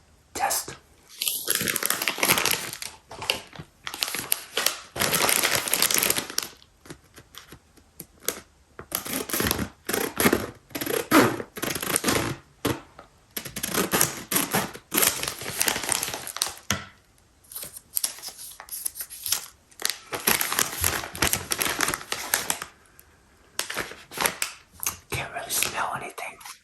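A clear plastic wrapper around a Werther's Original caramel apple filled hard candy is crinkled and torn open close up, giving repeated bursts of crisp crackling with brief quiet gaps between them.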